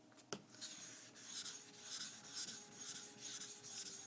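A worn diamond nagura rubs across a Japanese sharpening stone, raising a slurry: a steady, close rasping scrape in repeated back-and-forth strokes, with one sharp tap near the start and no voices.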